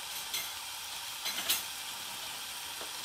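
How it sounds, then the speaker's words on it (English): A wagyu burger sizzles in a very hot skillet, a steady bright hiss of frying fat with a few louder pops and crackles, close and continuous with no talking. "The skillet is really hot. There you go. Sizzling away nicely."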